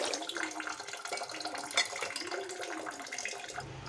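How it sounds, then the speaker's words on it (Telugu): Water pours steadily onto lentils in a container, a continuous close splashing flow with a small clink partway through. "ఓ కప్పుకు మూడు కప్పులంత నీళ్ళు వేసుకుంటాను"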